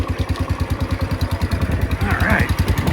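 A Cub Cadet engine idles, close and loud, its steady, rapid chugging pulse running evenly throughout, with a brief voice near the end.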